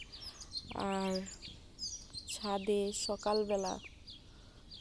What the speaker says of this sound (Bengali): আর পাখির কিচিরমিচির আওয়াজ